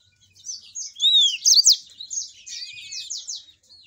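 A canary delivers a close, clear song of bright whistled notes, quick trills and rolling phrases, rising to a busy burst midway before tapering off, with no other sounds.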